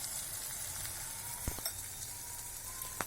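Chopped Surti papdi beans, green chillies and tomatoes dropped into a hot pan, giving a steady quiet sizzle with a couple of sharp clinks of utensil on metal, no talking.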